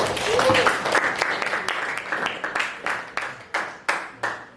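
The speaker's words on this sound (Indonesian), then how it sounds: "Tepuk tangan untuk semua" A classroom group claps during a supervised lesson, starting as a dense, fairly loud burst of applause that thins into a few scattered, separate claps toward the end.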